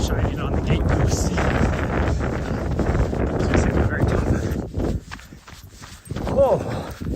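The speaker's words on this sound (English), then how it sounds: "this is the wind I was talking about that I could feel earlier" Wind buffeting the microphone during an outdoor run, a loud continuous rumble with rustling gusts, easing briefly and surging again, with footsteps beneath and a voice speaking over it.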